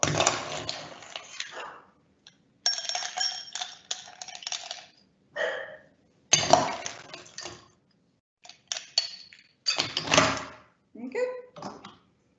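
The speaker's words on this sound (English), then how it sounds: "So I'm going to fill this glass, again, remember, more ice, less dilution." Ice cubes clink and rattle into a cocktail glass as it is filled to the top, several bursts of clattering separated by pauses, with a person talking in between.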